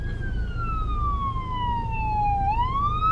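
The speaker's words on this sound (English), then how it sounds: "And we have an ambulance." A wailing ambulance siren sweeps slowly down in pitch and then rises again, heard over a steady low traffic rumble.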